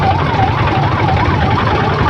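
An ambulance siren sounds in heavy traffic near Begumpet, Hyderabad, wailing steadily up and down in a loud, continuous, repeating cycle without pause.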